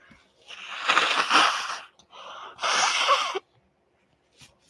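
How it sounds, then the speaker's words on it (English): Two loud, wet nose-blowing bursts in a row, close up, followed by a brief faint sniff; no talking. "I'm over here blowing my nose on camera."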